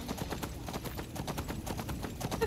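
Skyrim horse hooves clip-clopping in a quick, even rhythm, crisp repeated hoof strikes close and clear throughout, with no speech.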